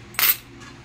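A few coins, old English-series 25-centavo pieces, drop and clatter in one sharp burst, close and clear, followed by a faint rattle as they settle.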